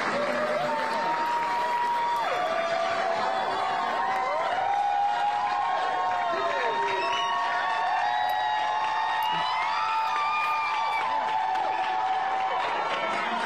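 Applause in the Tennessee State Legislature chamber as a member re-enters, sustained clapping and crowd noise filling the room for the whole stretch, with singing or chanting voices riding over it.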